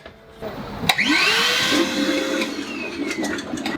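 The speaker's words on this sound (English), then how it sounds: "I have a vacuum cleaner set up down there, and I have it so it blows instead of it sucks" A vacuum cleaner motor, set to blow rather than suck to clear a clogged pipe on a yacht, whirs up and runs loudly and steadily, rushing air with a high whine, nearby and alone.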